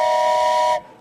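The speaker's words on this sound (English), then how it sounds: "How do you like the introduction of my new train whistle to make sure I get your attention?" A new train whistle sounded to call a council meeting to attention gives one loud, sustained, steamy whistle blast lasting under a second, then cuts off abruptly.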